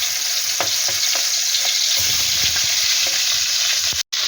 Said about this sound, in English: I'm actually going to first of all shallow fry the marinated prawn